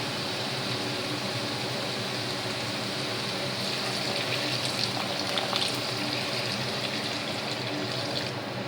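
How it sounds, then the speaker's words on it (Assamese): Water pouring steadily into a pan of fried dry spices for an Assamese-style chicken curry, a continuous close rushing wash with no talk. "তাৰপিছত এতিয়া দিম মই পানী"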